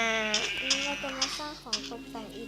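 Sheep bleating in the video game Minecraft, a run of about five short, close, wavering bleats in quick succession with a low background hum.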